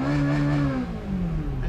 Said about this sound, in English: others simply spend a lot of money just for the sound coming from the exhaust pipe